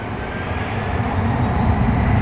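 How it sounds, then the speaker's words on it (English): An MD-11 jet takes off at night at DFW Airport, a broad, steady roar of engine noise that slowly builds in loudness across the clip, with no voices. "here goes our second MD-11 launch of the night"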